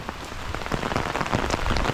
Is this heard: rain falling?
yes